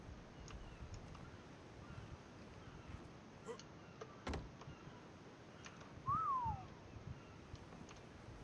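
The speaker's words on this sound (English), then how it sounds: "She's not able to follow whistles." A brief whistle command in ARK Survival Evolved: a single short tone that slides up and then down, standing out over a steady bed of background game ambience.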